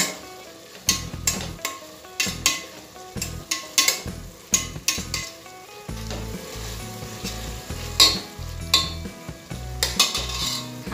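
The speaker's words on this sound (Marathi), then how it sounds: "आता यात आपण टोमॅटो घालून घेणार आहोत आणि ते परतून घेणार आहोत" Tomatoes sautéing in a pressure cooker for masala pulao, a close, steady sizzle broken by frequent scraping and stirring clatter of a utensil against the metal pot.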